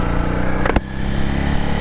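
A Honda CRF300LS motorcycle engine idles steadily nearby after a charcoal EVAP bypass, a continuous even hum with a brief clunk partway through.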